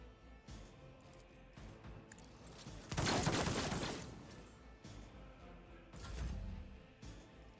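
Video game gunfire in Warhammer 40k Rogue Trader: a loud, sustained burst of shots lasting about a second, followed later by a shorter, softer volley over low background ambience.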